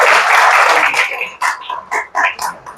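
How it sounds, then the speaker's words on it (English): Audience applause for a real estate presenter, full and dense at first, then thinning into scattered individual claps that trail off in separate bursts. "let's give Brett another round of applause for phase 2 here"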